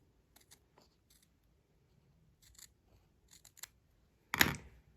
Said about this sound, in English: I'm going to trim the box out. Just a simple square.